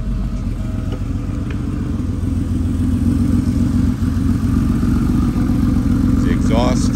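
The exhaust of a 1993 Porsche 911 964 C2 idles close by with a steady, low, throbbing rumble and slight clatter, loud and continuous throughout, with a voice speaking over it.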